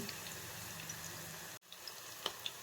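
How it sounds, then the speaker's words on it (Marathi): Onion, turmeric, chili, cumin and mustard seeds sizzling in hot oil for spiced rice, a steady close crackle and hiss that cuts off abruptly, then resumes more quietly with a few sharp pops. "तेल तापलेलं आहे कांदा टाकून हळद टाकू मिरची घालू जिरा मोहरी टाक टाकू"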